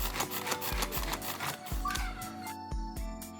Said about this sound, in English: Now I chop onion too.